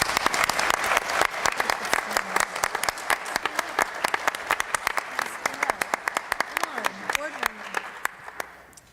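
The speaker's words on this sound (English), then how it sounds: "I think we all need to applaud them one more time" A crowd at a school board meeting applauds the board members, a burst of close, sharp individual claps that gradually thins and fades over several seconds.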